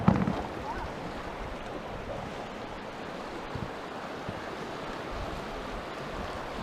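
Rushing river rapids pour over a rock during a rafting run through the Royal Gorge, a steady loud broadband wash of churning water with occasional thumps and bumps, close and continuous.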